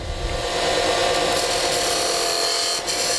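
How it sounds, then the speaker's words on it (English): A skew chisel cuts a shoulder into wood spinning on a lathe, giving a steady, close, continuous scraping hiss with no talk. "is to start the cove with your skew"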